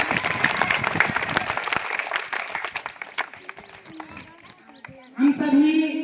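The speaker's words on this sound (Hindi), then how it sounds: "इसके लिए भी एक बार जोरदार ताली।" Loud audience applause at a Swachh Bharat cleanliness campaign event, dense clapping for several seconds before fading into a brief lull, then a burst of crowd noise with voices rising near the end.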